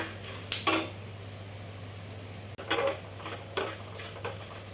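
Coriander seeds dry-roasting in a pan, stirred with a utensil: a few scattered scraping and clinking strokes over a steady low hum, moderately close, with no talk.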